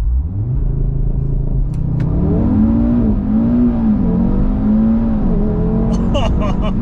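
Audi RS3 launching hard from a standstill on a quiet bridge, its engine note climbing in a loud continuous rev through several gear changes, heard from inside the car with a faint voice underneath.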